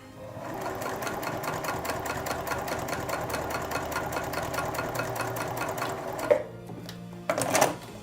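A Juki TL 2010Q sewing machine stitches through thick material in a steady, rapid mechanical rhythm for several seconds, then halts with a brief clunk and a short burst of handling noise.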